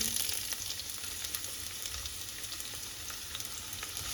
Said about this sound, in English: once the oil has been preheated, we are going to go in with our onion